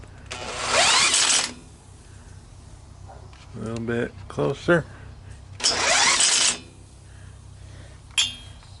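Two long whirring bursts of a cordless drill cranking a Troy-Bilt tiller engine, one early and one later, with a person speaking between them and a brief clatter near the end.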